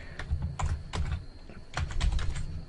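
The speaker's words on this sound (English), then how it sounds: "So go ahead and type in your username" A username is typed on a computer keyboard in quick bursts of clicky keystrokes, close and clear with short pauses between groups, no voices.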